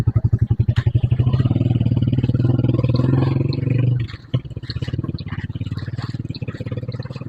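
A motorcycle engine hums steadily up close on a mountain road in the highlands, loud for about four seconds, then drops off abruptly, with a lower rumble continuing afterward beneath a voice talking.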